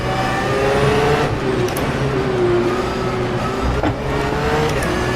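A Porsche 911 GT3 R race car engine roars steadily in the rFactor 2 racing game at Adelaide, a loud, dense drone with shifting pitch and brief gearshift dips.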